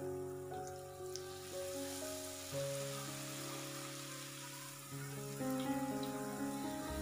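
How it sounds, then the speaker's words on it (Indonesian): Peanut crackers (peyek kacang tanah) with sliced lime leaves deep-fry in plenty of oil over moderate heat, giving a faint, steady crackling sizzle under soft background music. "Goreng dengan minyak yang banyak sampai matang."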